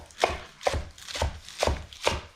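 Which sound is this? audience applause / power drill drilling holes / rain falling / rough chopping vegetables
rough chopping vegetables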